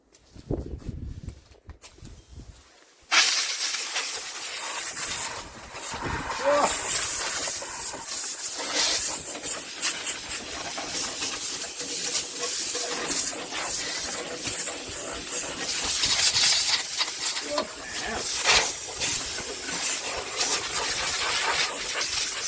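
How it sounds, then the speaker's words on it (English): Compressed air blasts under a Wheel Horse mower cutter deck, a loud, rough hissing rush that starts suddenly after a quiet moment and keeps going with fluctuating intensity and debris rattle. "now we need to blow out the underside of this deck"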